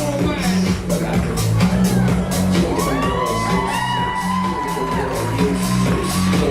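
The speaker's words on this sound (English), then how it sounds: "keep the round of applause going for Tara" Wedding guests cheer, whoop and clap in a loud, unbroken crowd roar as couples enter the reception, with an announcer's voice over the noise.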